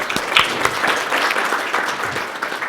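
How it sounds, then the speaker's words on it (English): An audience at a daytime conference panel session applauds steadily, a dense wash of many hands clapping at even loudness throughout with no talk over it. "Please give them a round of applause."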